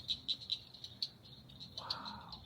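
Frogs call in a flooded nature preserve with cypress and sawgrass, a faint, rapid rattling chirp pulsing repeatedly at a distance, with a softer hiss of background noise and no speech.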